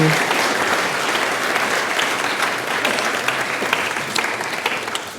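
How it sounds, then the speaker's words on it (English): A church audience applauds a group of performers playing the disciples, a dense, steady wash of many hands clapping throughout, fairly close and full, with faint voices mixed in. "let's give a big round of applause to our disciples"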